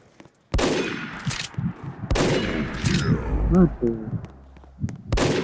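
Bursts of rapid gunfire from a Roblox shooter game crack out in several sharp volleys, loud and close, with someone talking excitedly between and over the shots.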